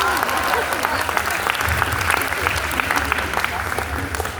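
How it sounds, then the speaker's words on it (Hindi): An audience applauds at a poetry recital at Lucknow University, a sustained wash of many hands clapping with some crowd noise, loud and continuous for several seconds. "आपके लिए बात की तो आपने तालियां ज्यादा जी"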